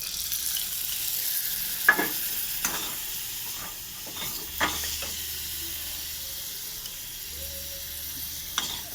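Potatoes and pointed gourd sizzle in a pan with salt, chilli, turmeric and Kashmiri chilli, a steady frying hiss broken by several sharp scraping stirs of a spatula.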